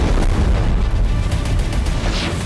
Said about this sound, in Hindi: डोनेट्स्क में रूस ने यूक्रेन की सैन्य टुकड़ी को फैब 3000 बम से हमला कर खत्म कर दिया।